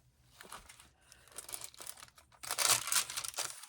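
Tissue paper crinkles and rustles in bursts as it is handled for a craft page, soft at first and then louder and denser toward the end, with no talking.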